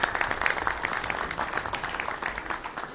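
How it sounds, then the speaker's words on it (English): An audience applauds the new Commissioner of Homeland Security, Jerry Hauer, at a roundtable hosted at the Paladine Center, with a steady patter of moderate clapping that lasts the whole stretch. "Let's give him a round of applause."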